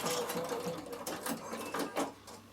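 A Bernina sewing machine stitching a seam, its needle whirring in a fast, steady mechanical chatter up close, with no voices.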